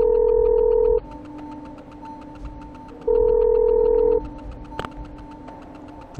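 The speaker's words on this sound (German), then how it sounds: "Ein Freizeichen." Dial tone from an old telephone in the video game Parasite Eve 2, two long steady electronic tones over a low ambient hum, with a brief sharp click near the end.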